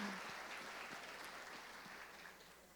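A church congregation claps in a steady, dense ripple of applause that sounds faint and somewhat distant, slowly tapering with no talk over it.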